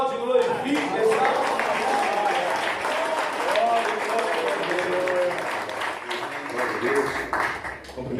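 Congregation applauding during a church service, a steady wash of clapping across the whole stretch with voices calling out and praising over it.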